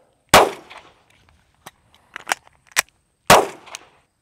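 A handgun fires at a range while the shooter draws from concealment and reloads: one sharp, loud shot, a few small clicks and clacks of the magazine change, then a second shot.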